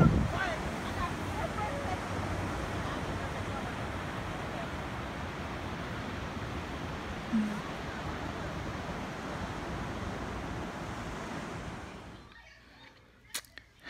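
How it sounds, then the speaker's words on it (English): Steady wind gusts across the microphone at Daytona Beach, a dense continuous rushing roar that holds for most of the stretch before dropping off near the end, with a faint sound of surf mixed in. "The wind is lovely."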